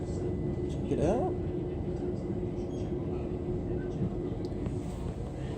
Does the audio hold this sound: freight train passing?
yes